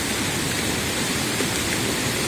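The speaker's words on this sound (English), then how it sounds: "here is the waterfall" A flooding waterfall roars as a loud, dense, continuous rush of water with no breaks, heard up close and alone without any talk.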